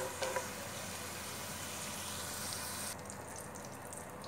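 Pistachios and cashews fry lightly in hot oil, giving a soft, steady broadband hiss and crackle that stays even throughout and drops slightly in brightness near the end.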